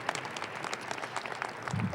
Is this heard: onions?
no